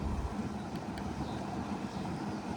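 A boat engine idles with a steady, low, broadband rumble that holds evenly throughout, with no voices.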